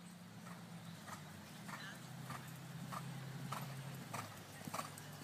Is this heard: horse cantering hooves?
yes